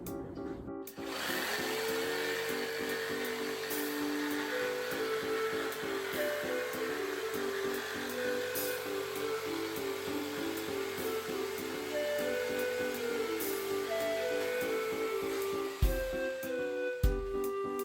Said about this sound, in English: Have our jigsaw, we're gonna cut circle number 1